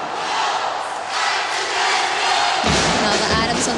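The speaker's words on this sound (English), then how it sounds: "Now the Adamson crowd is also alive." Crowd at a UAAP volleyball match between Adamson and Ateneo roars and cheers steadily, swelling louder near the end as the Adamson fans come alive during the fourth set.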